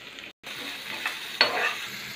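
Chopped onion sizzles in a hot pan for veg fried rice, a close steady frying hiss broken by a brief gap and a louder stir-scrape burst midway, no voices.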